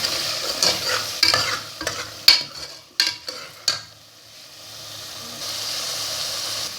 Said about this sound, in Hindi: गोश्त गला के मैंने इसी तरह गोश्त की बुनाई कर ली है